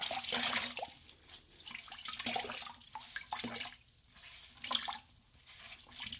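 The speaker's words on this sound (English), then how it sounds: "So I'm wringing it out pretty good." A white cleaning cloth being wrung out by hand after wiping an Alcantara steering wheel, giving close, intermittent bursts of dripping and splashing water, alone with no talk.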